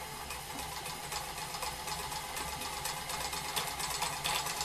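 Treadmill motor driving a variable speed lathe, a steady mechanical whir with a low hum and rattling vibration, running continuously at close range with no talk.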